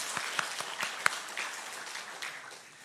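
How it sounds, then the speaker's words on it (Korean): A church congregation at a Sunday worship service applauds to encourage their pastor, a steady patter of many hands with a few sharper individual claps, moderately quiet and slowly fading. "우리 목사님께 함께 박수로 격려해 주시기 바랍니다."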